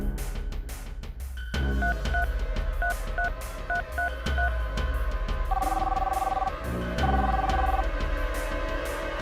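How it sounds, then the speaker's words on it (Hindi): A landline telephone number is dialed, a series of short touch-tone beeps in quick rhythmic groups, close and clear over a low background hum. "घर पे ट्राई करता हूँ, कोई ना कोई तो फोन उठाएगा ही।"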